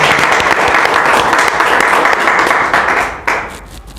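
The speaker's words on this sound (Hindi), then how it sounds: "2 मिनट तालियां बजा करके हम इनका स्वागत करें" A loud, dense round of applause from an audience welcoming franchise owners at a team event rolls on steadily, then tapers off and thins toward the end.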